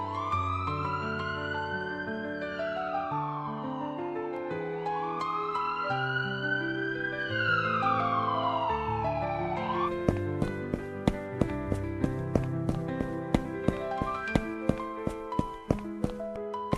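A wailing siren sweeps up and down in long rising and falling cycles, loud and near, then shifts into a rapid pulsing pattern of sharp repeated tones, with no voices.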